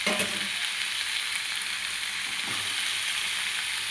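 Goat liver sautéing in a pan gives a steady, close sizzle and fry with hissing crackle throughout and a few soft stirring scrapes, with no talking.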